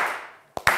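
Studio audience applause on a TV word-quiz show, a short burst of clapping that fades out, followed by two sharp, loud claps close together.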